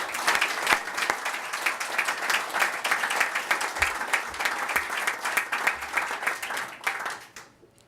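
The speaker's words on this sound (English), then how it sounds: "Can you applaud?" An audience applauds at a business talk, with dense clapping that holds steady for about seven seconds and then fades out.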